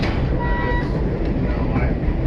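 RBMN F-unit diesel excursion train on a fall foliage ride, a steady loud rumble of the locomotives and cars rolling along the track, continuous and close with no breaks.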